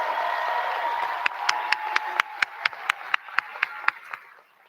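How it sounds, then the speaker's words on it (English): Clapping at a high school biomedical academy graduation ceremony: a run of sharp, regular claps sounds close over a faint room murmur, then stops abruptly. "Please give them a round of applause."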